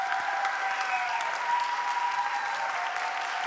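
Steady, full-room applause from the audience at a youth summer camp concert after the musical's final song, dense and continuous throughout with no break.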